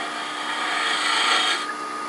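A hunter turning tool cuts inside a cherry burl wood box spinning on a lathe, giving a steady, close rasping scrape with a faint ringing hum that swells slightly before easing off.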